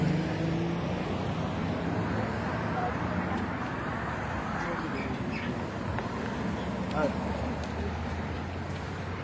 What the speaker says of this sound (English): You get a sense of it with all the vehicle traffic in and out of the malls.